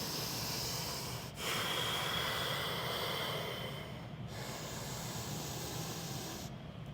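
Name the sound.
breathing while holding plank pose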